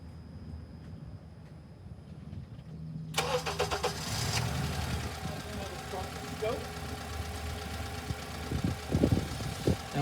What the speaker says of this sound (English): We will start the car